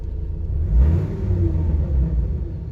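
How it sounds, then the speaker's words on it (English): A V10 Dodge Ram 3500 truck gives a brief, deep, rumbling engine rev that swells and then settles into a steady loud idle, close by and with no voices. "Let me see if we can hear little rev sounds."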